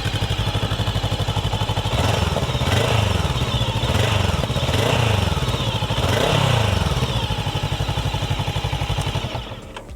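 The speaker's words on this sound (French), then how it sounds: "Elle sonne tout simplement comme une vraie grosse moto." Voge DS500 motorcycle idling just after start-up, a steady, deep, throbbing engine note heard up close with a few swells of throttle, loud and continuous before fading at the very end.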